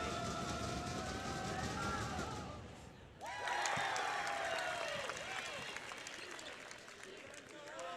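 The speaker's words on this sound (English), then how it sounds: "Big crowd here." Large crowd roaring and cheering through a district championship basketball game at Giant Center with Susquehanna playing; a steady, loud wash of voices swells into a sharp burst of cheers midway, while a commentator talks over it.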